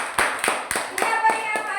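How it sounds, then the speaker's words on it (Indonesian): A classroom of students claps for a group in a coding and artificial intelligence lesson, with sharp, close hand claps falling in a quick, fairly regular rhythm and a few voices underneath. "beri tepuk tangan untuk kelompok kita"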